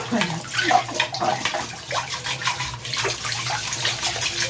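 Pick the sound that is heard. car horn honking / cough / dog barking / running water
running water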